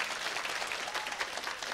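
Audience applause at a lively game show, a dense steady patter of many clapping hands lasting a couple of seconds at even volume.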